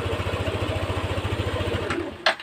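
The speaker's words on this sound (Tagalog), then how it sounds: "Okay, subukan natin Tumaandar yung motor." A Yamaha NMAX V1 ABS scooter engine idles close by with a steady, fast low thrum, then cuts out near the end, followed by a couple of brief clicks and rattles.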